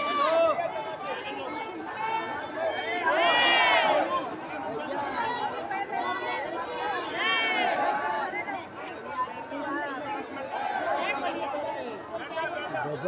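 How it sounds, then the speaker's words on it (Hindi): A large, dense crowd chatters and murmurs at a Hindu religious gathering, a continuous loud babble of many voices with shouts rising above it throughout. "गजब की भीड़ हो गई"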